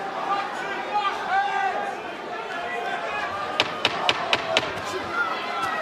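Chopping right-hand punches land in a boxing fight: a quick run of four or five sharp thuds in close succession, following talk and crowd noise.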